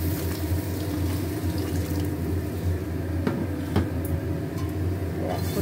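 Hot water poured in a steady stream into a pan of nearly boiled potatoes, a continuous close splashing gush with a couple of faint clinks.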